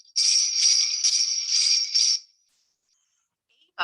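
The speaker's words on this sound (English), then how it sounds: "He is playing the bells." Small bells jingle in a steady run of shakes for about two seconds, bright and close, then stop.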